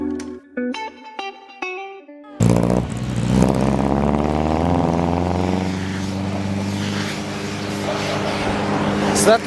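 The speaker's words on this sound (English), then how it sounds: "that thing's battery just died and we just gave it a push start" A car engine with a dead battery catches on a push start and roars to life, running loudly and steadily after a few seconds of music, its rumble settling into a continuous drone.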